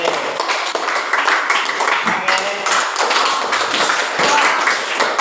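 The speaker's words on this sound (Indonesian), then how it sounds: "tepuk tangan untuk kelas 8B" Students in a Grade 8 Indonesian-language class clap their hands, a burst of quick, uneven claps and taps close by in a classroom, with a brief spoken word and voices mixed in.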